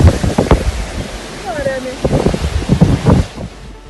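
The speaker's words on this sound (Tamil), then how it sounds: "மும்பை மெரின் டிரைவ் பகுதியில் கடல் சீற்றமாக காணப்படுகிறது." Rough sea waves crash at Mumbai's Marine Drive in loud irregular surges, with heavy wind buffeting the microphone, close by and continuous.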